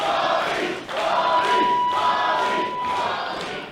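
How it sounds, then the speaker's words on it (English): A live independent wrestling crowd roars and chants in support of a wrestler during a match, loud and sustained, with swelling rallying cheers and a brief dip before rising again. "The crowd rallying behind Bobby, trying to fight out of this."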